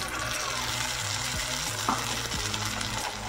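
Tomato and green chili paste fries with coconut in a pan, with a soft steady sizzle under a few close stirring scrapes and clinks.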